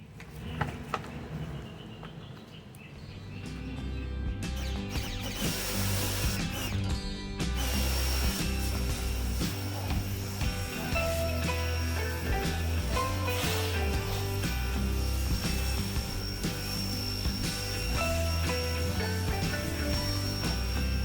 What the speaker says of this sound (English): now I'm going to put the pressure washing tip on it and go over some of this stuff a little bit better